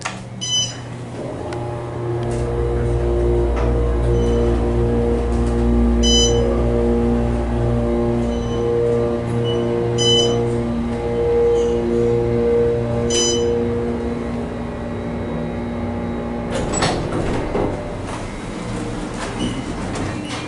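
A steady mechanical hum with a whining tone from an Otis Series 6 elevator motor during a ride, rising at the start and holding level, with a few clanks and a rattle near the end.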